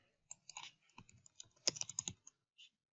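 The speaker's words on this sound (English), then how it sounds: "I might as well type in GE." Computer keyboard keys tapped in short irregular bursts, close and fairly quiet, with brief pauses between clusters of clicks.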